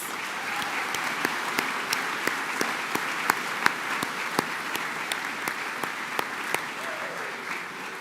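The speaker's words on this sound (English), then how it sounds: "please join me in a round of applause for every one of these students, their journeys, and their accomplishments" A crowd applauds graduates at a career and technical programs commencement ceremony. Sustained, even clapping fills the hall, with sharp individual claps popping out regularly above the wash of sound.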